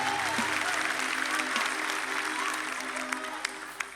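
A church congregation claps loudly and continuously during a worship service, with sustained instrumental tones underneath, gradually thinning toward the end, with a few sharper claps.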